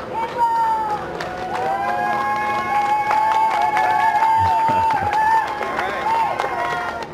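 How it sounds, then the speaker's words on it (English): A small crowd cheers and claps for departing NASA astronauts at a launch, with whoops and applause heard under continuous commentary and some close-by voices. "Small crowd, but big cheers."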